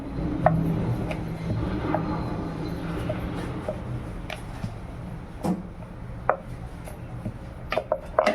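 A rolling pin works bhatura dough on a board, giving a low, steady rumbling roll. Scattered light knocks and clicks from the utensils and board occur close by.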